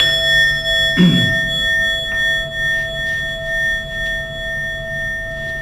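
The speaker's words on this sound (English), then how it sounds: "So I'll just ring the bell just to end the little practice." A mindfulness bell is struck once to close a meditation practice, giving a clear chime that rings on in sustained, fading tones over a quiet room hum.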